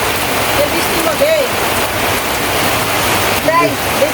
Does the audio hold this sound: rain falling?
yes